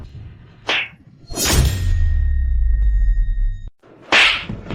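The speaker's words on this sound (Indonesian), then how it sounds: "Aku akan penuhi 2 tamparan pas." Sharp face slap effects crack out as loud, bright whip-like hits, one brief snap followed by a heavier smack with a swooshing tail and low thud, then another crisp slap near the end.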